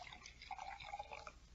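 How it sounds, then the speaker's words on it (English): Sherry is poured from a decanter into glasses, a soft, gurgling trickle of liquid that swells and fades over about a second and a half, quiet and close, with no talking. "Here, I pour from the decanter for you"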